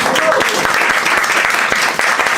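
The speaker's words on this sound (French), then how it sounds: "Vos applaudissements, mesdames et messieurs" An audience claps steadily throughout a French community show, with dense, loud and continuous applause from start to finish and a brief voice near the beginning.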